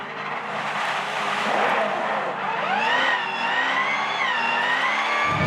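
A Supercars race car sliding out of control at Bathurst, its engine roaring under loud, sustained tyre squeal that rises and bends in pitch as the car spins, close and continuous.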